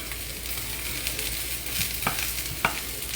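Sweet onion cooks in olive oil in a pan for caramelization, a steady close sizzle with a few sharp stirring clicks and scrapes, no talking.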